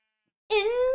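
A single short sheep bleat from Minecraft, a clear wavering cry that begins abruptly after a moment of silence and holds for about half a second.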